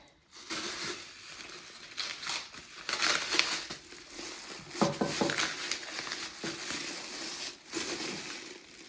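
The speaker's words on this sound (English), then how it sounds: "We're just gonna take off the tape now." Painter's tape being peeled away from a freshly painted surface, giving close, continuous crinkling and tearing rustles with brief louder rips, alone with no talk.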